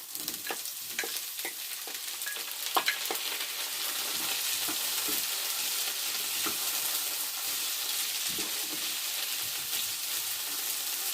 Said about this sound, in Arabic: صافي نخليو شويه حتى تشحر لينا هاد الفلفله